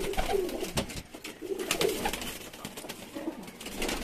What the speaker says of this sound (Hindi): बहुत बहुत टॉप क्लास कबूतर है।